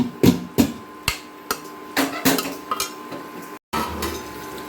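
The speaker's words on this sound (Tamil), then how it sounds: "ஒன்று போல் வர மாதிரி நல்லா மிக்ஸ் பண்ணணும்." A metal spoon strikes and scrapes a pan while fried cauliflower is mixed with masala, giving sharp irregular clanks and scraping clinks close up, with a brief silent gap near the end.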